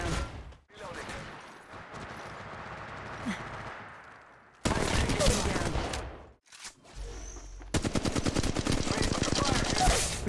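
Apex Legends gunfire, long sustained bursts of rapid automatic shots in several loud stretches separated by brief pauses, with in-game voice callouts mixed in.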